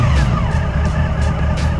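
A Honda VFR800 motorcycle engine idles roughly and gives short revving coughs during carburettor synchronisation, close and loud with uneven pulsing bursts.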